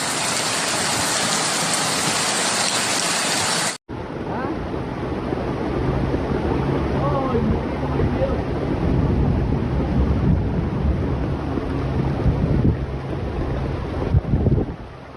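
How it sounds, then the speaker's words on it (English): Heavy rain pours violently over a flooding Chinese city, a dense, loud, steady roar with occasional deeper rumbles, continuing without break after an abrupt cut from a brighter hiss. "Then suddenly, the rain intensified."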